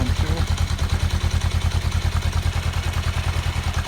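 A Kawasaki GPZ500S motorcycle engine runs steadily at idle with a loud, even pulsing beat and mechanical clatter throughout.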